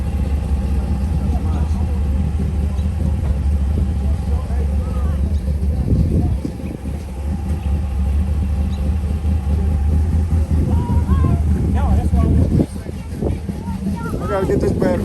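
An SRT Dodge Challenger at an outdoor car, truck and cycle show rumbles with a deep, loud idle. Crowd chatter and nearby voices run over it, with a couple of brief revs midway.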